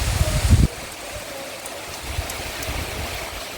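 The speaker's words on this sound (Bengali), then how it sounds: "ভালো জোরেই হচ্ছে বৃষ্টি" Heavy monsoon rain pours down in a steady, close hiss, with a louder splashing burst in the first moment before it settles into an even wash of falling water.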